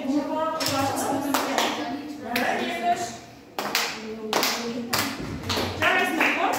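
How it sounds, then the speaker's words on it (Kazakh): A seventh-grade informatics class claps in unison, with several bursts of sharp, crisp hand claps in short groups, mixed with children's voices and brief talk. "қол шапалақтау әдісі бойынша 3 рет шапалақ ұрғашты"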